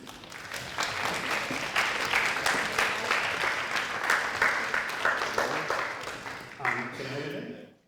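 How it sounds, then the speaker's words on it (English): Lecture audience clapping for two volunteers called onstage, a sustained, fairly close round of applause lasting several seconds before fading out at the end. "Let's give an applause to"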